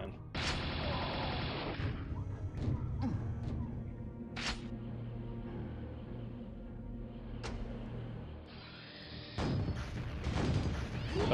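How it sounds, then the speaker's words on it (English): Laser cannon shots in the video game Quake: Scourge of Armagon, sharp bursts of fire repeating quickly amid other loud game explosions and impacts, with a voice talking over parts of it. "It's super fast too, the laser cannon."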